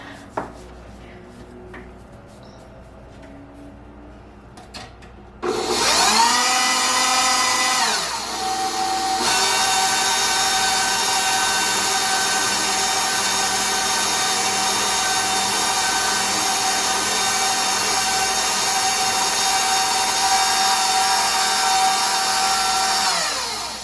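A pasta machine, likely motorised, rolling spinach egg pasta dough: after a quiet start, a loud steady mechanical whir with a bright tonal hum kicks in and runs on continuously up close.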